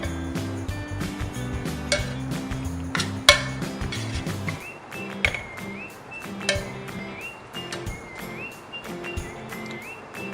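Goan pork sausages and potatoes get stirred in a pan with a spoon, giving repeated clinks and metallic scrapes at an uneven pace, close and fairly clear, alongside faint cooking sizzle.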